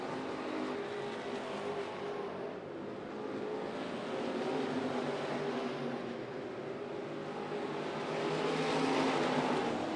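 Street stock race cars roar down the back straightaway of an oval track, a distant blended engine drone that swells and fades as the pack passes, with no talk over it.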